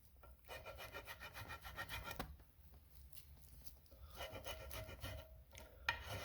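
Hand file rasping paint off a metal roof rack cross bar part for a Jeep, a steady scraping rub in repeated strokes with a brief pause midway, close and fairly faint.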